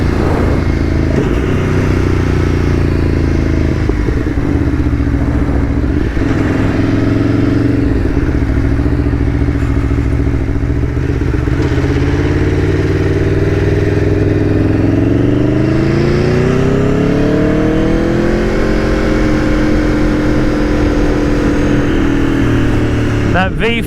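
Aprilia Tuono V4 1100 motorcycle with its V4 engine revving and pulling through quick-shifter gear changes on the road, a loud, continuous rising and falling engine roar with wind noise throughout.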